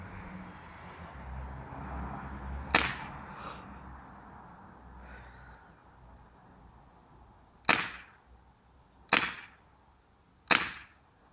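A toy gun firing: four sharp cracks, one early and then three spaced a second or two apart near the end, standing out loudly over a quiet, low background hum.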